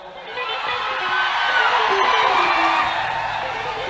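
Live audience at a stage show for a singer claps and cheers in a steady, dense wash of applause with scattered whoops and yells, swelling slightly in the middle and holding loud throughout.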